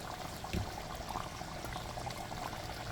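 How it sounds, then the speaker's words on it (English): Water pours into a pot of Jamaican curry goat, a soft steady liquid stream and bubbling at close range with a small thud near the start. "let me just put a little bit of water in there, just a little bit, just to put that salt"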